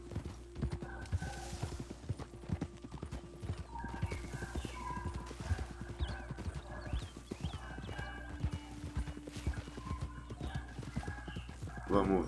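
Steady, rhythmic hoofbeats from a ridden horse in Red Dead Redemption 2 thud along continuously at a trotting pace, with occasional snorts and faint game voices layered over the ride.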